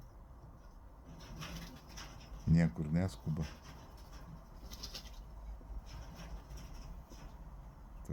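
Domestic pigeons cooing close by, a burst of several rolling coos in quick succession around the middle, with softer bird sounds and someone talking quietly in the background.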